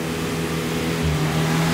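A Chevette stuck in mud with its wheels spinning, the engine droning at steady high revs with a faint pitch shift, close and continuous over a short stretch.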